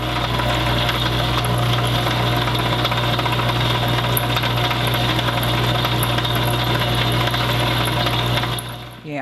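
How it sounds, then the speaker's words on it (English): An Inland Wizard stained glass grinder running badly gives a steady, loud motor hum with a constant rattling, buzzing vibration that continues unbroken for about nine seconds before cutting off at the end. "I want you guys to actually hear how bad this grinder sounds when it is running currently"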